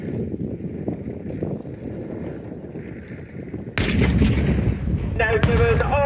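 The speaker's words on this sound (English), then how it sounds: "oh, and another shot to vehicle number 3" A tank fires a shot at a target vehicle during a tanks, trucks and firepower show, a sudden loud boom midway followed by a rumbling, wind-buffeted echo outdoors.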